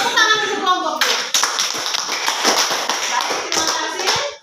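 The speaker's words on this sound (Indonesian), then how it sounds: "tepuk tangan untuk kelompok 2" Classroom of children applauding group 2, a voice briefly heard first, then close, lively clapping with voices mixed in that continues to the end.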